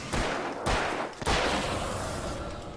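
Gunfire in Alan Wake: three loud, close shots spaced about half a second apart, each ringing out into a long echoing tail.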